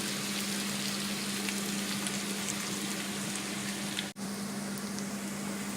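Onions frying in a pan for chicken curry, a continuous close crackling sizzle with a low steady hum underneath and a momentary dropout near the end.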